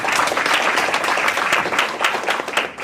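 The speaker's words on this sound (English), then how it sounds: "Let's give another round of applause." A crowd at a book launch applauds steadily, dense continuous clapping that fills the whole moment and tapers slightly at the end.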